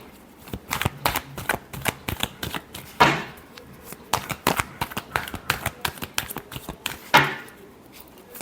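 Tarot cards being shuffled by hand in a quiet room, rapid riffling clicks in repeated bursts with two sharper snaps where the deck is squared, close and fairly soft with no talking.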